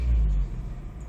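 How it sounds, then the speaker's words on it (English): A 2025 Mazda3 with a 2.5-litre Skyactiv-G engine is heard while driving, a low muffled rumble from inside the cabin that swells briefly then settles into a softer steady hum. "This engine seems very refined."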